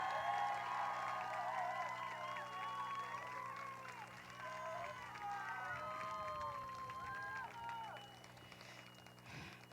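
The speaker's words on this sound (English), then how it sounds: "If you could encourage her and support her with a round of applause for Christy." Crowd applause and cheering at a rally in Brownsville to keep families together, honoring a fasting participant, a continuous patter of clapping that holds steady for several seconds before gradually thinning out.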